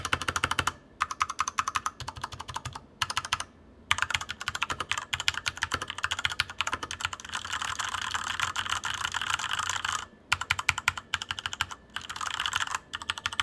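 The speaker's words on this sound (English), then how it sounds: "Here is the sound test with the HyperX pudding keycaps" Rapid clacky typing on a Corsair K65 Mini mechanical keyboard fitted with HyperX pudding keycaps, near and crisp, in steady bursts broken by brief pauses, with no talking.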